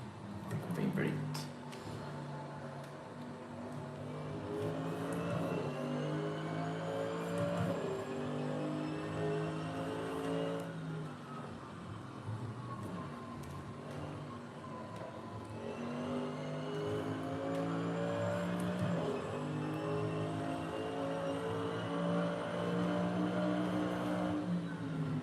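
GT3 race car lapping on cold tires in Assetto Corsa, a steady engine drone rising and falling through gear changes at moderate level, with someone talking over it.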